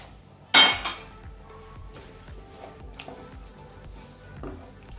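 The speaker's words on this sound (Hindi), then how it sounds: "अब हम इसमें डालेंगे ये जो पास्ता मैंने उबाल लिया था ये इसमें डालेंगे।" Boiled pasta is tipped into a pan of spicy red sauce, a loud clatter of metal and utensil at the start followed by softer wet stirring and light scraping knocks, close up with no voices.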